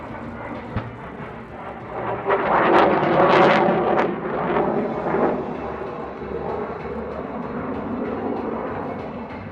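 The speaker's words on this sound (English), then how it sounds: "High and to the left, the Hornet dives in for its attack." An F/A-18 Hornet jet dives in for a simulated attack at the Iwakuni Friendship Day 2018 air show, a broad roaring engine sound that swells to a loud peak and then holds as a steady rumbling roar in the open air.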